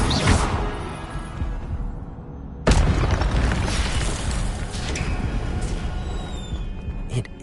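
Incendio fire spell cast in Hogwarts Legacy, a loud, rushing burst of flame that swells, fades, then erupts again in a sharp boom followed by a roaring, crackling fiery sustain.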